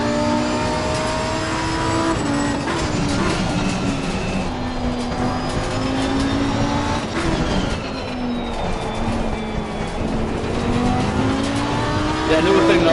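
Race cars from the Assetto Corsa Competizione video game, including a GTR, roar continuously through shifting engine revs and whines, with someone talking over the racing.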